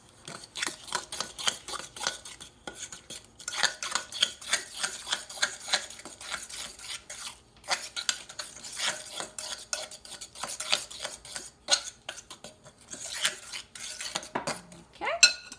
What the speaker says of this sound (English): We're going to do our first egg. Get that beat in.